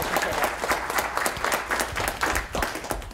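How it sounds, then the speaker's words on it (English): A round of applause for the speakers at a responsible-AI public event, many hands clapping steadily with some individual claps standing out, moderately loud throughout. "I just want to ask for a round of applause for our speakers"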